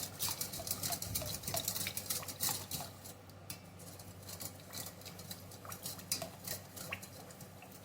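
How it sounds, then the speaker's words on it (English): A spoon mixes a sauce with a teaspoon of cornstarch in a bowl, giving quiet, quick rhythmic clinks and scrapes against the bowl, busiest at first and then lighter, with no speech. "and I'm going to mix it up"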